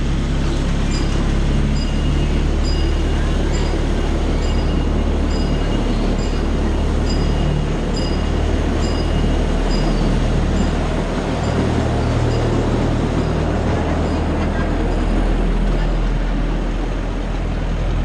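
A ride-on miniature passenger train runs steadily along its mile-long track at Casa de Choo Choo, a continuous close rumble of wheels and rail noise with faint squeals, holding at an even level throughout.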